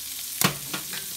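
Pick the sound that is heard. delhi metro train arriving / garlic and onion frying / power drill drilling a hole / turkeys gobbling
garlic and onion frying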